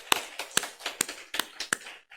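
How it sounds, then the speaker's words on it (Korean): At a Korean church New Year's Eve worship service, a few sharp, separate claps ring out in an uneven rhythm, close and fairly quiet against a silent room. "우리 하나님께 영광의 박수를 돌리겠습니다"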